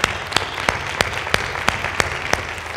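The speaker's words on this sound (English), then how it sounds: "if you give her a round of applause" An audience at a Shaker Heights schools event gives scattered, sparse applause, with a few sharp individual claps rising at a steady rhythm over a low background.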